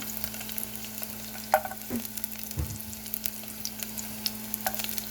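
Garlic frying in a pan for adobo, a soft, steady sizzle under a constant low hum, with a few scattered pops and a utensil knock or two, fairly quiet and close.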